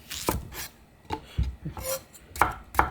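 A knife cuts through cucumber on a cutting board in a few sharp, separate chops and slices, close and fairly quiet, with no talking.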